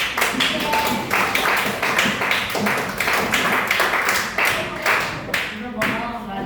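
Classroom applause during a group guidance counseling session, a dense run of fairly close hand claps lasting several seconds, with voices mixed in beneath the clapping.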